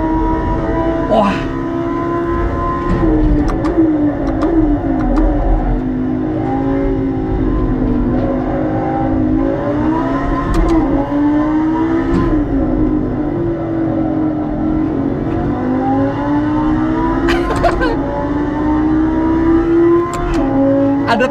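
Car engine in a driving simulator game revving and rising in pitch repeatedly, a steady loud motor drone with sweeping pitch changes throughout, with occasional voice sounds over it.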